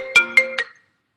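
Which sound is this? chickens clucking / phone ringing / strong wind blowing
phone ringing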